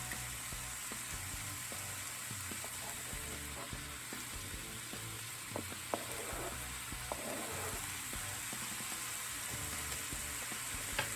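Butter sizzling steadily with cauliflower rice in a pan, a soft, even frying hiss with occasional small pops and light stirring, close but quiet, with no talking.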